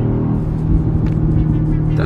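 The 650-horsepower V8 of a BMW XM rumbles steadily from inside the cabin, a deep continuous drone with faint low burbles and no talking.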